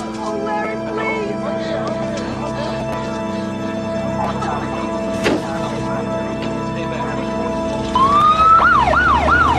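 An ambulance siren from a horror movie sounds near the end, its wail sweeping up and down over a dense, steady soundtrack bed.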